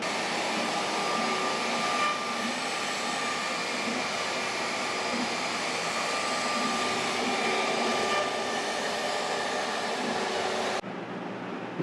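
A CNC router cutting a shallow pass with a vacuum dust shoe attached gives a loud, steady roaring whine that runs unbroken for about eleven seconds and then cuts off abruptly, with no voices.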